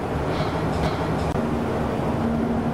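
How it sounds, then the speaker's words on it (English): A train rolls down tracks running parallel to a rural road by the Tallahatchie River in Mississippi, a loud, continuous, close rumble of rail cars with a faint tonal hum throughout. "on any given day, you may hear a train coming down the tracks also"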